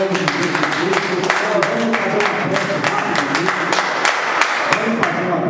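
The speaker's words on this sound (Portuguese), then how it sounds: "Glória a Deus com as palmas nesta noite." A church congregation clapping during an evening worship service: loud, sustained rhythmic clapping throughout, mixed with singing or music underneath.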